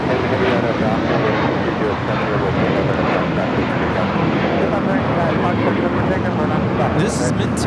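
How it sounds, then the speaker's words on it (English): A JetBlue Airbus A321 jet takes off from LAX, its engines a steady, loud broadband roar throughout with no clear break, under airport radio-style chatter and talk. "This is Material Girl taking off to Fort Lauderdale, JetBlue, flight 1700. It's an A321."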